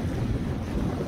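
Steady sustained wind buffets the microphone at the seaside during a fishing session, a continuous low rumble with surf-like wash and no pauses or voices.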